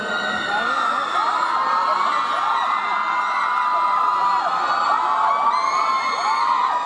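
A crowd at a pop concert in a shopping mall cheers and shrieks loudly, high excited voices and whoops rising and falling over a continuous wash of clapping, sustained for several seconds.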